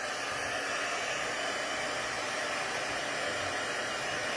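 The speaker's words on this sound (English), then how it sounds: "now we're going to use the heat gun and heat this up" A heat gun blows hot air to melt embossing powder, a loud, steady, close broadband whoosh that runs unchanged throughout with no talk.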